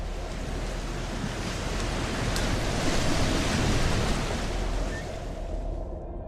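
Ocean waves surge onto new shorelines as seas refill dry basins on a moon, a loud continuous wash of surf that swells in the middle and eases toward the end, with no voices.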